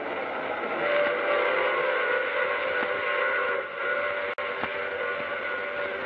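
Steam train sound effect from an old-time radio drama: a steady rumbling run of rail noise with a sustained whistle tone, loud and continuous throughout, with a brief dropout near the end and no speech.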